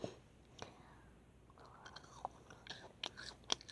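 Someone chews kohakuto crystal candy that has not fully hardened, making soft, close crunches and wet chewing sounds at an irregular pace, quiet and alone.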